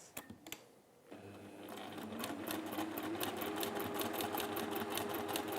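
A sewing machine stitches a fabric seam on a crown pincushion, starting after a few soft clicks and then running in a fast, steady mechanical patter, close and clear, with no talking.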